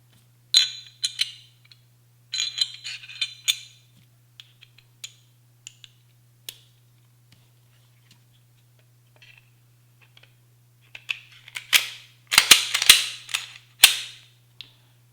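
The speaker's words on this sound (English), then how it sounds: "let's set these aside and go ahead and reassemble the gun." A Glock pistol being reassembled after an Ameriglo CAP sight upgrade gives scattered metallic clicks and snaps, then a cluster of louder, sharp clacks near the end, over a faint steady hum.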